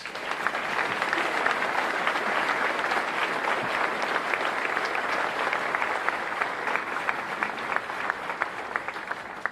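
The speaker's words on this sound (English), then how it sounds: "Please join me in giving them a round of applause" A large audience at a Milwaukee State of the City address applauds the Common Council, a dense, even clapping that holds steady for the full stretch at moderate distance.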